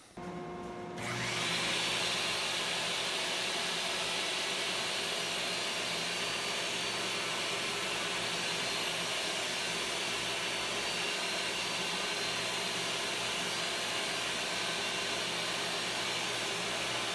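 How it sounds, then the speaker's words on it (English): A woodworking shop dust collector spins up and then runs with a steady, loud, unbroken roar and whine, alone with no talk. "I'll turn on the dust collector and we'll get going."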